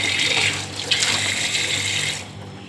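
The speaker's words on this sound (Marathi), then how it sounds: "मी पाण्याच्या पाण्याने धुत आहे" Guava rinsed under running tap water, a steady splashing flow into a sink that fills the clip and eases off near the end; no voices.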